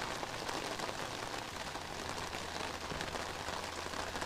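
Heavy rain pours down without a break, a dense, even hiss of drops on surfaces with no voices. The wash is steady and moderately faint.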